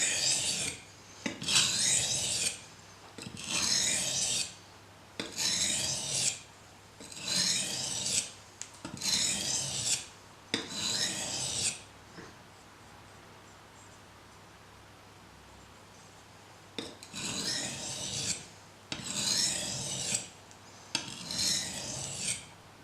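A gut knife edge is drawn across a sharpening stone in repeated pull strokes to remove the burr, giving crisp rasping scrapes in regular bursts with a quiet pause midway, close and clear with no talk.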